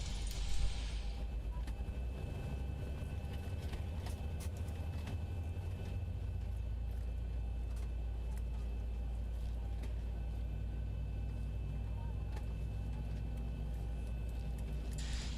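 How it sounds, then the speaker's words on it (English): Boeing 737-800 engines running in the Zibo flight simulator game, a steady low droning hum with a faint higher whine, continuous and even throughout, with a brief louder hiss at the start. "let's go ahead and start the engines"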